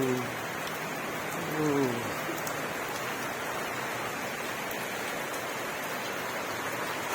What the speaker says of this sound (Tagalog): Patuloy na umuulan.